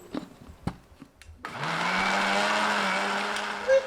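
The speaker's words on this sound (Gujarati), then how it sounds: "હવે આપણે એમાં મિક્સર ફેરવી દેશું।" A few light clicks, then a mixer grinder whirs up and runs with a steady loud motor drone as it blends orange juice.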